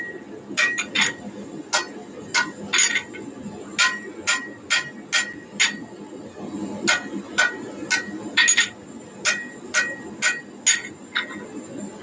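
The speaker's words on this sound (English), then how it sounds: "I'm just hammering the edge right there." Sharp metallic hammer blows on hot metal over an anvil ring out in irregular bursts, some quick doubles, over a low background rumble, close and fairly loud.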